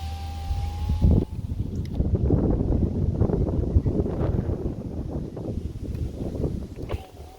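Gusty wind buffets the microphone inside a parked Mercedes C300 in heavy low rumbling bursts, nearly constant for several seconds before easing at the end.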